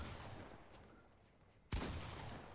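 A single sharp video game gunshot cracks out after a stretch of quiet background hiss, followed by a brief decaying rumble.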